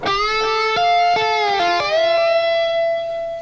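Bright electric guitar lick with bending notes sliding in pitch and quick tapped articulations, ending on a sustained note, loud and close, no speech.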